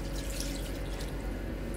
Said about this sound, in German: So, jetzt geben wir ein bisschen Wasser noch drüber,